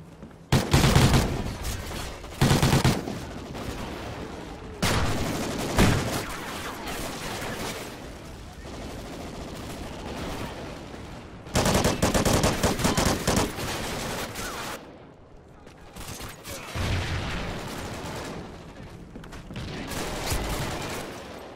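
SC-2010 rifle fire in the multiplayer shooter Call of Duty: Ghosts comes as loud, rapid bursts of automatic shots separated by short pauses and quieter background game sounds.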